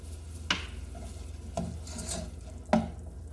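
Rutabaga cooks down in a pan with pepper, a soft continuous sizzle broken by three sharp scrapes of a utensil against the pan, with no talking.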